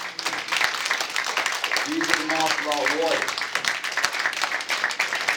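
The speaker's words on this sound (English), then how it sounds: "Give me a round of applause, please." Applause from a banquet audience, steady and broad, running under someone speaking over a microphone.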